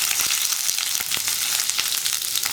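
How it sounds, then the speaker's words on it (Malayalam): Dried red chillies and curry leaves fry with popping mustard seeds in hot oil for a tender jackfruit thoran, a steady close sizzle with sharp crackles and pops scattered throughout. "കടുക് പൊട്ടി കഴിയാറാവുമ്പോൾ നമ്മൾ എടുത്തിരിക്കുന്നത് 3 വറ്റൽമുളകും 1 തണ്ട് കറിവേപ്പിലയും"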